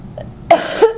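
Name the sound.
cough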